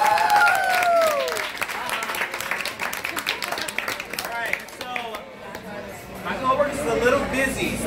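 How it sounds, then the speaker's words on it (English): Crowd clapping and cheering for two birthdays in a busy Longhorn restaurant, uneven applause mixed with whoops, chatter and voices for several seconds. "Can I get a round of applause, please?"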